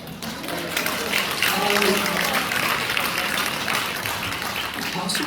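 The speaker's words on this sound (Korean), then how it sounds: "박수까지 쳐주시니까 제가 몸둘 바를 모르겠어요" An audience at a pastors' seminar lecture applauds, a dense, steady wash of many hands clapping that holds at full volume for several seconds, close and filling the room.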